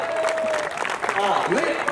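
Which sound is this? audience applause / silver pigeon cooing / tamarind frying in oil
audience applause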